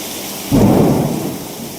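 A thunderstorm with heavy rain in a city after hot weather: constant loud rain hiss, then a deep rumble of thunder that swells suddenly and fades slowly.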